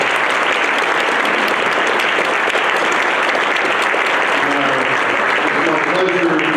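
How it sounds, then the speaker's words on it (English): At an awards recognition ceremony, a crowd delivers a loud, sustained round of applause, dense clapping filling the hall throughout, with a voice faintly emerging near the end. "give yourselves a round of applause once more time"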